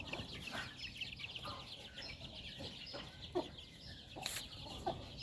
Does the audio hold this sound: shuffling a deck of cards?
no